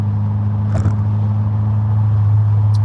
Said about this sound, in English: Is the car louder than me talking, or what's going on?